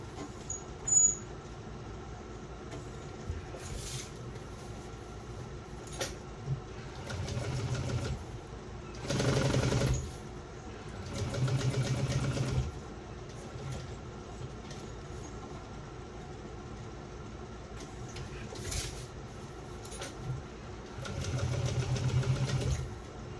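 A sewing machine stitches a vinyl shoulder bag seam at a one-eighth-inch allowance, running in several short whirring bursts separated by quieter pauses over a low background hum.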